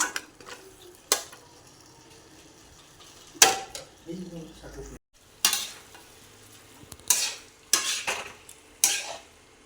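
Meat cooked in a home kitchen pan is stirred in bursts: sharp scraping strokes recur irregularly over a low, steady sizzle, with brief pauses between. No one speaks.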